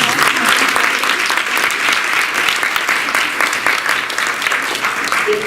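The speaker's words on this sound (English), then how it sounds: "If everyone would please join us in giving a round of applause." Audience applause at a university fireside chat with a former head of state, a loud, dense, continuous clapping from a large crowd, sustained without a break.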